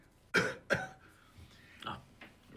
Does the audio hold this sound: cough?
yes